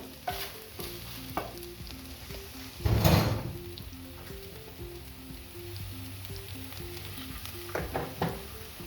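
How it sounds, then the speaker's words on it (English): Onions frying in a little oil in a pan, a soft continuous sizzle broken by knocks and scrapes, one louder clatter partway through, and a low steady hum underneath. "Now I'm going to put in my onions, a little oil to fry them."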